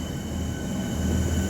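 A six-carriage sky rail passenger train runs past on elevated track near a seaside station, giving a steady rolling rumble with a faint metallic whine above it.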